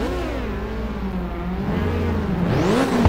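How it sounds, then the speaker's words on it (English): Car engines rev at the start line of a mountain race in the Ridge Racer video game on PSP, a steady loud whirring hum that rises and swells toward the end. "Now start your engines and get ready."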